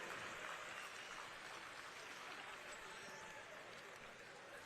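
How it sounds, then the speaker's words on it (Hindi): An audience at a ceremony honouring Asian Games medal winners claps together, a dense, sustained wash of applause that holds at a steady level throughout. "3 करोड़ जितनी ताली तो जरूर होनी चाहिए।"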